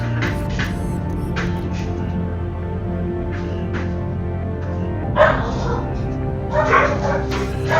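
Dogs bark and yip in scattered bursts over a steady low hum, with a louder flurry of barking near the end, in the video game Deus Ex: Human Revolution Director's Cut.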